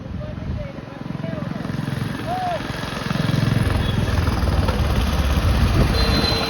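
An old tractor engine chugs nearby with a rough, pulsing rumble that swells louder halfway through, while people talk over it.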